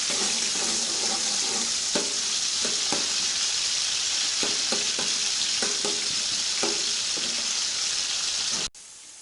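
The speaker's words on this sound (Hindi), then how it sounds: "प्याज की भुनाई कर लेते हैं।" Onions fry in hot ghee for beef biryani with a loud, steady, close sizzle that fills the clip. Occasional spatula scrapes break through, and the sizzle drops away abruptly near the end.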